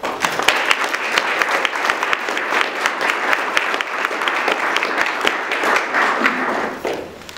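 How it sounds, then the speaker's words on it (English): Audience at an art exhibition opening at a northern British Columbia museum applauding steadily, a dense sustained round of clapping that fades out near the end. "I would also like to give a big round of applause for the Museum of Northern BC staff"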